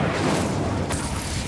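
A fiery Incendio spell is cast during Hogwarts Legacy combat, a sustained close roar of magical flames with a sharper burst partway through, then continuing rumble.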